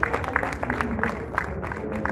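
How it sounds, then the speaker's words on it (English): Applause from an audience at a Port Harcourt women's forum event on workplace harassment, honoring a chairperson: steady, moderately loud clapping throughout, with faint crowd murmur underneath. "Please give her a better applause"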